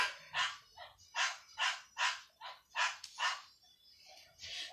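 A dog barks repeatedly, about nine sharp, fairly close barks in an uneven rhythm with brief pauses between, heard clearly without talk over them.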